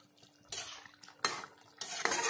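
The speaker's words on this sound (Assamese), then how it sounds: "চাওক মাছখিনি দিয়াৰ পিছত এনেদৰে এবাৰ লৰাই দিছোঁ" A utensil scrapes and clinks against a pot in three distinct bursts while fried fish pieces are stirred into a sour tenga curry with otenga and kosuguti, close and fairly quiet with gaps between strokes.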